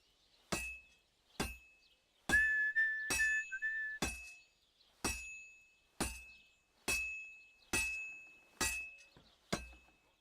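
A hammer strikes a workpiece on an anvil in the video game Kingdom Come Deliverance 2, with about a dozen sharp metallic clangs at a steady, even pace, each ringing briefly. A faint whistling tone sits under a few of the blows.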